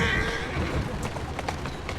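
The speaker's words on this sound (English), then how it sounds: "Who's a good horse?" A horse in the video game Assassin's Creed Syndicate clip-clops in a quick hoof rhythm over a street-noise backdrop, moderately close, mixed with faint game ambience.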